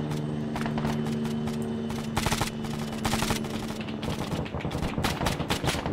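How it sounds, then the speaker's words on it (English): Heavy video game gunfire, a dense, sustained barrage of rapid shots and bursts with several louder clustered volleys, loud and close throughout, no talking. "We're taking heavy fire."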